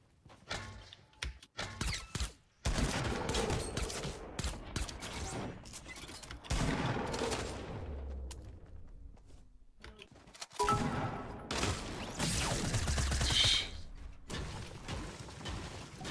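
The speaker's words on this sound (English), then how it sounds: "I got shot from my northwest." Rapid bursts of automatic gunfire in a Fortnite match, several clusters of dense shots separated by short pauses, with mechanical clicks and reload rattles between volleys.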